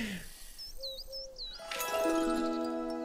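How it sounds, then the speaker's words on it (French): Hoopoe call in the nature game Alba: A Wildlife Adventure, a few soft repeated hooting notes at moderate distance, followed by bright layered chiming game music tones. "La huppe faciée."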